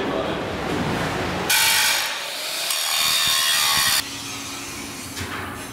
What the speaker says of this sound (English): Now you hear the grinding?